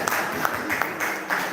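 Audience at a technical meeting for a Pesparawi church choir festival gives the judges a short burst of applause, steady dense clapping lasting under two seconds.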